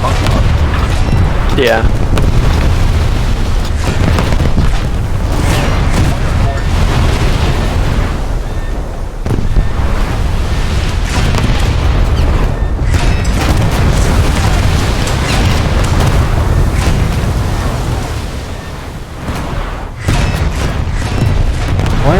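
In a naval warship video game, 4-inch secondary guns fire repeated heavy booms over a loud, continuous rumble of battle, and a voice briefly speaks once.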